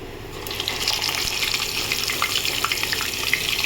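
Turmeric-rubbed rui fish frying in hot oil, a dense, hissing crackle that holds steady and grows slightly busier, close and moderately loud, with no talking.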